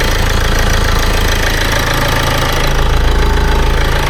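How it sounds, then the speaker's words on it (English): A diesel engine idles steadily up close, with a loud, rhythmic knocking clatter that never lets up. "That to me sounds just like any other diesel engine."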